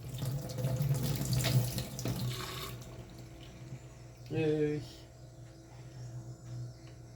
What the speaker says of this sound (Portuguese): Pronto, passei na água, agora eu vou colocar lá fora pra secar.